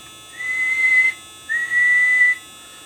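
Someone whistles into the microphone of a Varmint XL-110 two-tube mobile CB radio on a test bench, making two steady, sustained whistle tones with a brief pause between them, heard over faint hiss.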